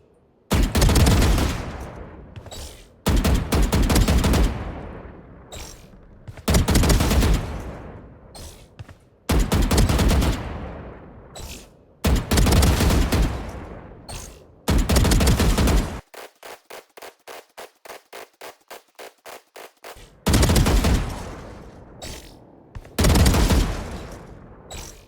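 Vandal rifle fire in Valorant: repeated loud automatic bursts of about a second each, separated by short pauses, plus one longer stretch of rapid, evenly spaced single shots.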